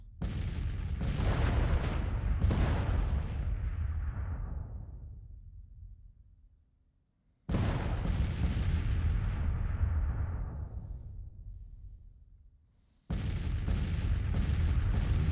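Artillery bombardment in the Civil War strategy game Grand Tactician, heard as repeated heavy cannon volleys: loud booming bursts that roll out into long fading rumbles, with a sharp new salvo striking after each decay.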